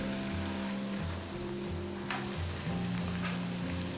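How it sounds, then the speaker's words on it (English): An egg fries in a little oil in a pan, a constant crackling sizzle close up under a low steady hum, with no voices. "put a bit more oil in here, just a little oil. And I'm going to crack my egg into it. So cook my egg here."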